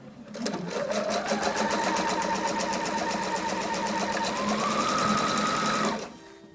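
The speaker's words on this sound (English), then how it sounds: "So now that we're done sewing the strap, you need to snip the corner" A sewing machine stitching a prairie apron strap runs in one steady, fast whirring stretch of about five seconds, close and loud, then stops abruptly.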